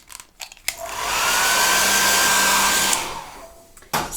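A hair dryer drying a watercolor painting of a full moon, switching on with a click, blowing a loud steady whoosh with a faint whine for a couple of seconds, then cutting off, close to the mic.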